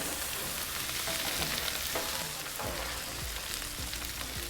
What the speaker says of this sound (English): Now we're on the hot side of the griddle. We're trying to get a little bit of a sear